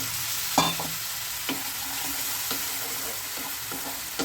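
Rice being fried in a pan with ground coriander, cumin and spices, a steady soft sizzle broken by a few sharp scrapes and taps of a stirring spoon, with no talking.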